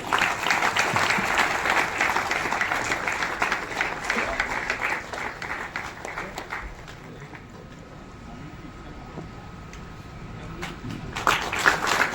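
An audience applauds at a Marathi indie music award ceremony honouring a lifetime achievement recipient, with dense, sustained clapping that fades to a quieter patter midway, then swells again at the end.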